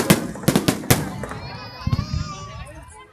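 A fireworks display for a 5 December celebration in Thailand, with several sharp bangs in quick succession followed by a couple more distant cracks and crackle, and a crowd murmuring underneath.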